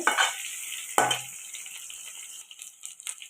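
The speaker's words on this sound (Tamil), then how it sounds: "நிறைய இந்த மாதிரி நல்லா வதக்கி வச்சுக்கோங்க" Ingredients for a dried fish curry sauté in a pan. A couple of sharp scrape-and-sizzle bursts from stirring stand out near the start, then settle into a faint hiss with light scraping.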